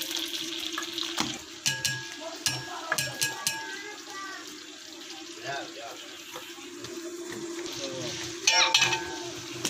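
Onions hit hot ghee in a large degh pot, giving a continuous frying hiss under someone talking, with clinks and scraping of utensils scattered throughout.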